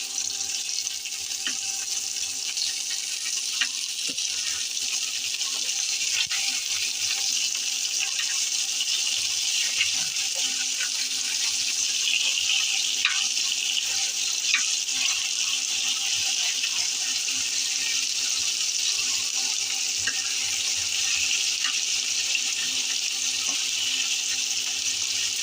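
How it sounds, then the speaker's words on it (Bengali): Poa fish frying on its second side in hot oil, making a continuous, even hiss of sizzling fat that holds steady throughout, close by and fairly loud, with no voices. "আমি আরেক পাশ ভাজবো উল্টে।"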